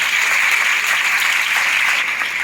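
An audience claps for a Rotary Club at a school discipline-themed gathering, a dense, steady wash of many hands that stays loud and even through the whole stretch with no voices over it.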